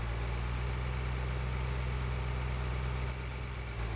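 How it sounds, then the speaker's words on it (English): Tractor engine in the farming game Farming Simulator 2013, a steady low idling rumble with a constant hum, continuous and fairly close, no talking. "We want to get out of the way of the tractor that's cultivating down there."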